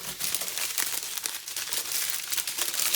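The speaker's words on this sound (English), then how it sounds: "Apologies about the rustling there." Packaging from an Amazon diamond painting kit crinkles and rustles steadily at close range during unboxing, a continuous bright crackle with no voice over it.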